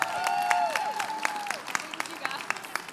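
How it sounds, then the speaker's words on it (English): An audience applauds a hometown honoree, the clapping fairly faint and thinning from a steady patter into scattered individual claps, while a voice carries through the opening. "let's give her a round of applause"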